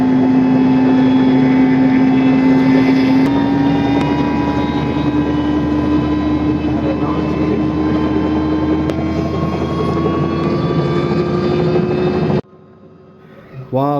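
A helicopter on a joy ride over Colombo, Sri Lanka, fills the cabin with a loud, steady rotor and engine drone whose pitch creeps slowly upward for about twelve seconds before it cuts off abruptly.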